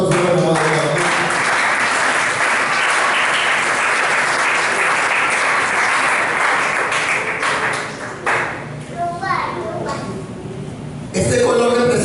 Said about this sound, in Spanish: Denle fuerte aplauso, Señor, hermano.